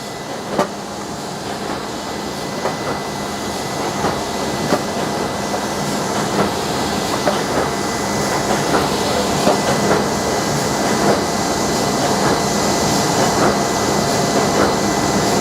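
A Horizon SB-09 binding machine runs thick book blocks of 32-page signatures with a steady, loud mechanical roar, faint rhythmic clicks and thumps ticking through the constant hum.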